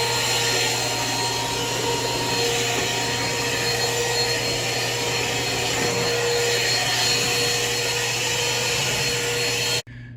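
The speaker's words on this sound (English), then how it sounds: "I'm going to get a vacuum that out" A shop vacuum runs steadily and loudly at close range while sucking a year's built-up dirt out of a swamp cooler pan, with a constant whine and roar throughout that cuts off abruptly at the end.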